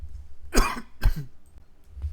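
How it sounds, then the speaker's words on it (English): Two sharp coughs close to the microphone, followed by a smaller throaty cough, with quiet pauses in between. "I have a bit of a coughing fit."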